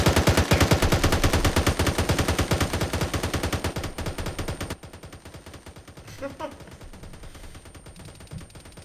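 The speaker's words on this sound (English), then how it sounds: "Bang, commence firing, 100 rounds." Sustained automatic rifle fire from the military simulation game Arma 3, a hundred-round barrage of rapid, evenly spaced loud shots for about five seconds, then quieter scattered reports and faint voices.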